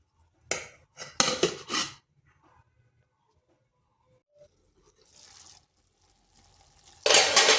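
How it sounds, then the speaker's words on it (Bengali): Water is poured into a pot of vegetarian jackfruit curry with potatoes in short splashing bursts, a few pouring strokes, then near-quiet, a faint hiss, and another strong pour at the end. "এখানে আবার একটু জল দিচ্ছি।"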